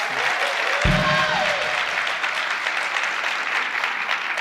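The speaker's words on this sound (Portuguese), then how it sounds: "Uma salva de palmas por causa disso" Audience applause at a live Brazilian talk event, a thick continuous wash of clapping from a crowd, with a brief voice near the start.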